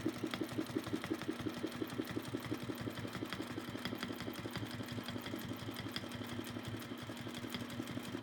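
A sewing machine quilting with a ruler foot, stitching in a fast, even rhythmic patter that runs steadily and close up, with no talking.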